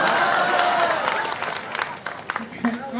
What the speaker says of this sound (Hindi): आप लोग क्या इनके बारे में ताली बजाने लग जाते हैं?